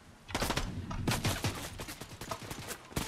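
A mythic shotgun fires repeatedly in Fortnite, with several loud, sharp blasts in an irregular rapid sequence among other in-game gunfire and effects.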